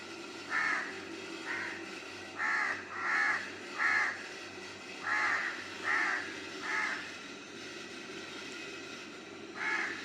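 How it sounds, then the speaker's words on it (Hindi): Many crows caw repeatedly from a tree in irregular bursts, about a dozen harsh calls over a quiet background, fairly close. "इतना ज़्यादा कौवों ने शोर डाला हुआ था"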